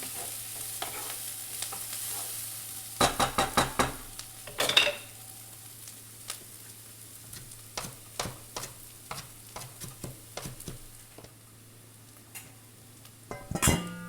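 Onions fry quietly in a pan for an eggplant and Israeli couscous salad, with a soft steady sizzle beneath and bursts of close clattering spoon stirs against the pan, no speech.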